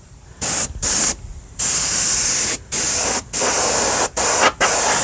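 A detail spray gun fires loud bursts of air-driven spray at low pressure, about 50 PSI, in repeated on-off blasts of varying length separated by brief pauses, close and steady with no voices.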